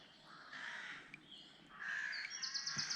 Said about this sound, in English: My guess would be there's a rookery up there somewhere